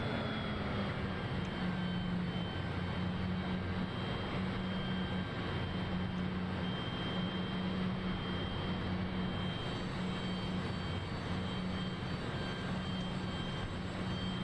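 Steady jet engine drone of a Cessna Citation CJ4 business jet in a flight simulator, a continuous low hum with tonal whine running unbroken and fairly loud, with no talk over it.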